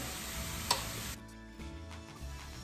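Cheesy grits get stirred in a pot on the stove over a little under medium heat, with a soft scraping, squelching stir and a faint sizzle, close and fairly quiet.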